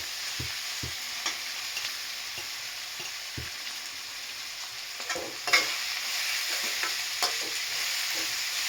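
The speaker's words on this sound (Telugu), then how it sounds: "ఆనియన్స్ కొంచెం ఫ్రై అయ్యాక రొయ్యల పొట్టు వేసుకోండి." Prawn shells fry with onions in a pan for a home-style brinjal and prawn shell curry, a soft steady sizzle broken by sharp clinks and scrapes of stirring at irregular intervals.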